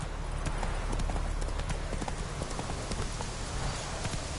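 Roach, the horse from the video game The Witcher 3, gallops at close range, its hooves beating in a fast, dense, continuous rhythm.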